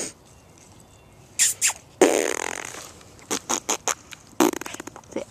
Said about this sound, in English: Stop making farting sounds.